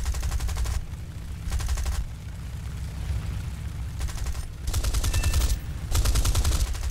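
A CAC Boomerang fighter in a video game fires its Hispano cannons and machine guns in several loud, rapid bursts of a second or so each, separated by the steady hum of the aircraft engine.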